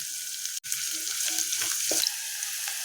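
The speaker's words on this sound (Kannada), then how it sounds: "ಉಳ್ಳಾಗಡ್ಡಿ ಚಲೋತ್ನಂಗೆ ಫ್ರೈ ಮಾಡ್ತೇನೆ ನಾನು" Chopped onion sizzles steadily in a hot pan for radish sambar, a soft bright hiss with a sharp utensil tap near the start and faint stirring clinks.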